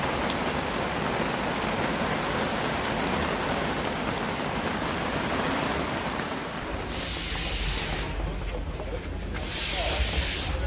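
Steady rain falls in an outdoor spot where a big puddle forms, a continuous dense hiss of drops striking surfaces that swells louder toward the end.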